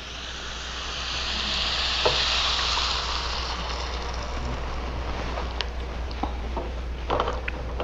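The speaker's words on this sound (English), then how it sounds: "Now I'm going to put in the thin coconut milk." Thin coconut milk poured into a hot pan of Kodava mushroom curry, a loud steady sizzle that swells as the liquid hits, then settles into continuous bubbling frying with small crackles and pops.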